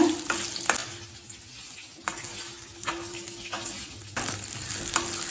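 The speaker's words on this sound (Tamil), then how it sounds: "2 பல் பூண்டு, சின்ன வெங்காயத்தை நல்லா பச்சை வாசனை போக வதக்கிக்கலாங்க." Small shallots and two garlic cloves sautéing in a pan for coriander chutney, a soft sizzle under repeated scraping stirs and light taps of a spatula against the pan.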